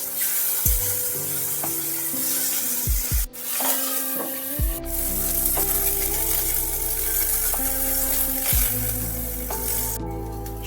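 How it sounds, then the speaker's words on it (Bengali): Tangra fish fry in a little oil in a kadai, a steady close sizzle broken by a few sharp clanks and shifts as pieces are moved, with no talking. "পরের মাছগুলোকেও একইভাবে ভেজে নিতে হবে।"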